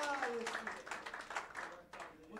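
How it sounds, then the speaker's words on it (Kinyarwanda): A church congregation claps for God in a lively burst of many hands, steady and close, with voices mixed in throughout. "Reka twongere dukomere Imana yacu amashyi menshi"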